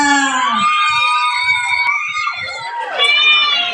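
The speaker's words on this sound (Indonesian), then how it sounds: "Beri tepuk tangan yang meriah" Audience at a school performance of the Batu Menangis legend cheering and shouting, with children's high voices screaming excitedly in a lively crowd, close and loud throughout.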